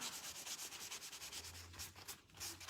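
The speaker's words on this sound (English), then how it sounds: "you would sand it lightly, and then you have a smoother finish" Cured joint-compound mud finish is sanded lightly by hand with steady, rhythmic back-and-forth scratchy rubbing strokes. The sound is close but quiet, with a low hum underneath.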